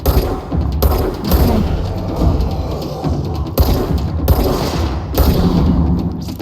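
Sustained gunfire from the video game Control, a dense, loud run of shots and booms that carries on without a break for several seconds, with no talking over it.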